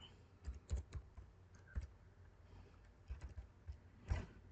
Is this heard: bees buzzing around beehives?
no